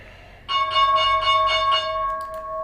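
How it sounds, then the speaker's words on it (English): A stock market opening bell clangs in a rapid series of about seven ringing strikes, then its bright tone hangs and slowly decays, fairly loud and alone. "Opening bell."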